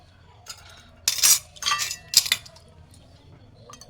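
Bowls handed out for a Nabanna harvest festival offering in a village, with several close, bright clinks and clatters of dishes knocked together in quick bursts, then quiet.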